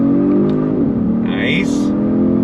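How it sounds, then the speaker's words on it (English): A 2023 Genesis G70 sedan pulls hard in second gear in Sport Plus mode, its engine note rising steadily from inside the cabin with a brief shift in pitch partway through. "We'll start in second gear. If you're ready, I'm ready. On throttle, here we go."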